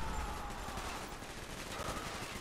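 Rapid gunfire crackles in a Call of Duty: Black Ops match, dense overlapping bursts of automatic fire and shots spread across the whole moment, fairly quiet in the mix.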